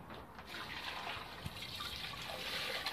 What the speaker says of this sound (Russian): Мы его заливаем, друзья мои, водой.